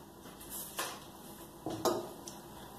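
A metal lid is set onto a cooking pot on the stove in a home kitchen, giving two soft clinks in the quiet. The second knock is the sharper of the two, followed by a faint rattle.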